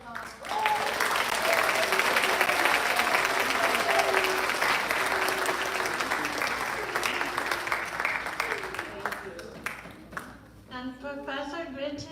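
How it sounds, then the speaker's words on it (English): A graduation audience in Sacramento gives loud, sustained applause for a professor. The dense clapping holds steady for about ten seconds, then thins out as a voice begins speaking near the end. "A round of applause"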